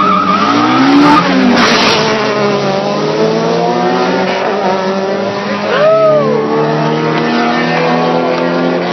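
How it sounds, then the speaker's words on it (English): A drift car skids with sustained, wavering tire squeal and revving engine harmonics, loud and close, sweeping in pitch throughout with no talk over it. "yo, it's a drift car, man."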